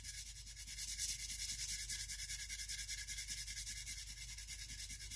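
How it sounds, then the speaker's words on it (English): Sandpaper rubbed by hand back and forth across one side of a steel axe bevel, a steady rhythmic scratchy rasp with even strokes, close and alone with no talking. "I'm going to sand one side"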